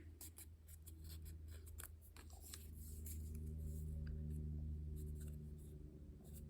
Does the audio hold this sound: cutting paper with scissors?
yes